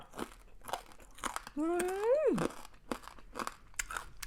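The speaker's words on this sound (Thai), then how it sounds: "ตอนนี้มันกรอบมากเลยจ้ะคอยฟังเสียงเด้อมันจะกรอบขนาดไหน" Crispy pork belly cooked in an air fryer is bitten and chewed, giving a series of close, dry crunches, with a drawn-out vocal exclamation in the middle.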